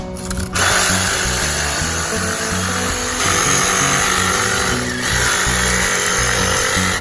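A power saw runs steadily and loudly through a thick yucca palm limb at close range, the motor holding a continuous whine with slight shifts in pitch for about seven seconds.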